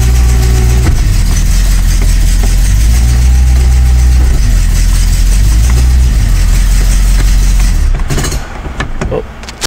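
Holden car with a GM Trimatic TH180 automatic transmission, engine running steadily and close by, a low continuous hum with slight rises as the gears are shifted, dropping away near the end.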